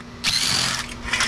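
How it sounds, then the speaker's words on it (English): A handheld power drill runs at steady speed for just over a second, a loud whirring drone with a slight surge partway through, no voices. "Doing this right here, the drill's not that heavy"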